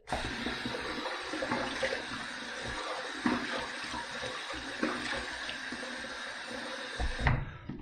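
Water runs steadily from a tap while someone wets their face before a shave, with a continuous splashing stream and small knocks near the end.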